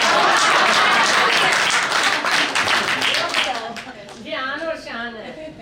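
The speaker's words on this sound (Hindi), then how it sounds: "एक बार ताली बजाओ उनके लिए।" An audience bursts into loud clapping at a devotional pilgrimage gathering, the applause fading over a few seconds before a voice begins talking over it.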